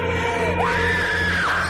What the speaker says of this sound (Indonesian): semua orang mendengar jeritan dari lantai atas.